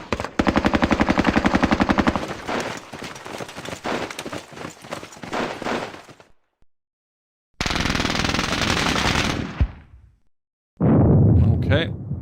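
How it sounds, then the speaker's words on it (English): Combat in the video game Squad Battles Eagles Strike: rapid bursts of gunfire and explosive impacts, loud and close, broken by short silences and ending in a heavy blast. "Okay, second mortar opens up."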